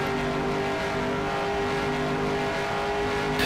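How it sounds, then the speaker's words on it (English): A race car engine in an IROC-style racing game at Homestead drones steadily at high revs, a continuous buzzing tone that holds even throughout with no speech. "listening to the RPM of the engine, is he running full throttle?"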